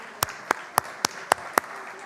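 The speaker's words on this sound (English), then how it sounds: "Can we give Mrs. Lewis and our panel another round of applause, please?" A small audience at a book panel gives a sparse round of applause, six distinct claps spaced evenly over about two seconds, each sharp and close.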